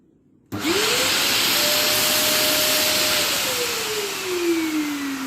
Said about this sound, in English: let us now try to use a vacuum cleaner to increase the pressure of it